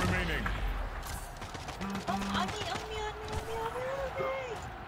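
Gunfire in the arena shooter Splitgate, scattered shots and bursts crackling across the clip amid game effects, with a voice talking over it.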